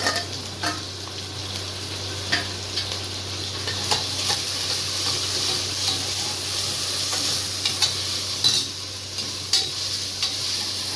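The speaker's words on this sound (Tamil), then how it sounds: "பூண்டு வெங்காயம் சின்ன வெங்காயம்லாம் போட்டது வதங்கிடுச்சு" Garlic and small shallots sauté in a pan for chicken biryani, a steady sizzle with intermittent sharp clicks and scrapes of stirring against the metal, close and alone without talk.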